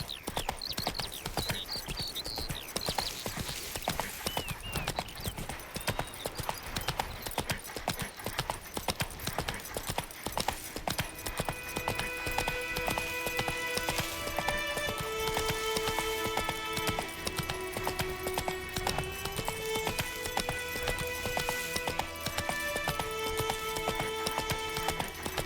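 Roach the horse gallops in The Witcher 3, with fast, steady clip-clop hoofbeats running throughout as game music with sustained tones swells beneath them.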